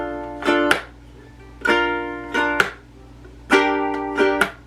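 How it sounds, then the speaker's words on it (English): Ukulele strummed in a repeating rhythm, each pattern punctuated by a sharp percussive slap on the strings. Played close, steady, with no talking. "you can even also do like a slap instead of a chuck"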